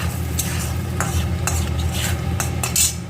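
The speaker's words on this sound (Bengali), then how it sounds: "এবার আমি তেলের মধ্যে একটু নাড়াচাড়া করে নেব" Chilli powder sizzles in hot oil in a pan while a spoon stirs it in several quick scraping strokes over a constant close frying hiss.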